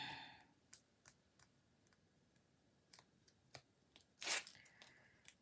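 Protective backing film peeled off a handmade Valentine's card, faint scattered ticks and crackles leading to one brief, louder tearing rip near the end.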